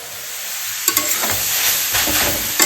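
Grated carrots for winter gajar halwa fry in a pan, a loud continuous sizzle broken by several sharp scraping stirs of a spatula, with no voices.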